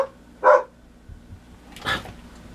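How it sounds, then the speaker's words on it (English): A pet dog indoors gives two separate, fairly loud barks roughly a second and a half apart, with a quiet room between them. "She barks because there's nobody here."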